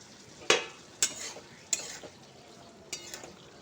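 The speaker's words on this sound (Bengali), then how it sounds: "তো মশলা আর আলুর সঙ্গে আমি খুব ভালো করে এটাকে একবার কষিয়ে নেব।" Spices and potatoes stirred in a pan as they fry, with a soft sizzle underneath and several sharp scrapes and clinks of the utensil against the pan at irregular intervals.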